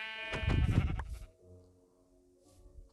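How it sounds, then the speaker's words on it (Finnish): A sheep in the video game Minecraft bleats once, loud and close, a wavering cry of about a second followed by quieter game ambience. "Halleluja, lammas."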